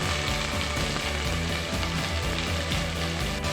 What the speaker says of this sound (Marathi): कांदा पण चांगला लाल होईपर्यंत आपण फ्राय करून घेऊया.